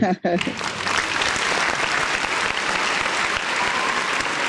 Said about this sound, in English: Let me give you another hand clap for that